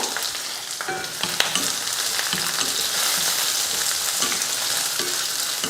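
Onion, green chilies and curry leaves sauté in hot oil with mustard seeds, giving a steady, fairly loud sizzle with crackles and occasional stirring scrapes throughout.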